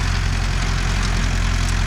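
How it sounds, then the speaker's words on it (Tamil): A Mahindra Yuvo Tech Plus 585 4WD tractor engine runs steadily at working revs while driving a rotavator, a loud, close, continuous low diesel drone with no talking. "ரோட்டேட்டருக்கு அப்படியே வெச்சா ஆர்பிஎம்மில் அப்படியே இன்ஜின் ரன் ஆகுது."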